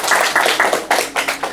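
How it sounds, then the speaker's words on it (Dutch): A studio audience at a school talk show applauds a newly seated guest, a close burst of bright claps in uneven clusters lasting under two seconds, with no talking. "Geef er een groot applaus."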